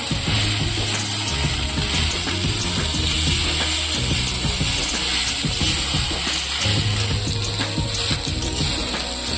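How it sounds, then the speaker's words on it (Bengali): Village-style egg pasta with little spice being stir-fried in a pan: a loud, continuous sizzling hiss with repeated scraping and clattering of the utensil as the pasta is tossed, no voices. "এখন পাস্তাগুলোকে কিছুক্ষণ ভালো করে নেড়ে চেড়ে ভেজে নেব।"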